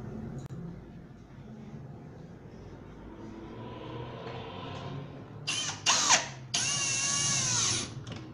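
A power drill drives a screw through a cup hinge into a melamine kitchen cabinet, with quiet handling noise first and then several short, loud whirring bursts near the end, ending in one longer sustained run.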